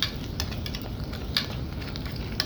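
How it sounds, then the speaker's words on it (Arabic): Onions fry in a pot for Egyptian koshari as tomatoes go in, a faint even sizzle with soft scraping and light clinks of stirring. "اول ما تحمر البصله احطها وهنزل بالطماطم على طول"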